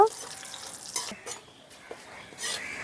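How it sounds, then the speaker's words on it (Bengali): Turmeric and salt fry in hot oil in a village kitchen while a fish curry is made, with short sizzles, soft stirring scrapes and a few light clinks of utensil on pan. "সামান্য একটু ভাজা ভাজা করে নেব"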